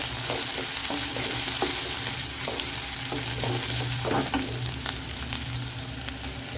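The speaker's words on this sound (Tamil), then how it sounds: "கருவேப்பிலை இது மாதிரி வந்துட்டு இப்படி வந்து பிச்சு போடுங்க, அப்பதான் நல்லா வாசமாக இருக்கும்." Curry leaves torn into onions frying in a pan for a village-style green gram kurma, with a steady sizzle beneath repeated scraping stirs from a spoon, close and fairly loud throughout.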